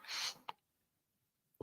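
One person sneezes once, a short breathy burst followed by a quick sharp exhale, then near silence before a brief breathy sound at the end.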